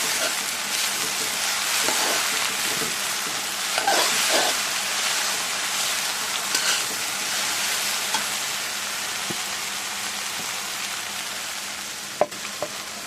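Finely chopped jute leaves fry in a pan with a steady, loud hiss and crackle, and a few stirring clinks and scrapes come through along the way.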